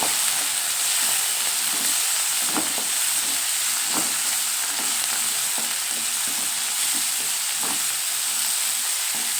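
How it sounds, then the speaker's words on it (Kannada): Masala for palak dal sizzles in a hot pan, a loud continuous frying hiss with occasional stirring knocks from a spoon scraping the pan. "ಎಲ್ಲ ಮಿಕ್ಸ್ ಆಗೈತಿ ಎಲ್ಲ ಫ್ರೈ ಆಗೈತಿ"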